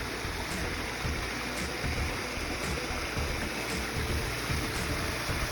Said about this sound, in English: Let's get close to the waterfall here.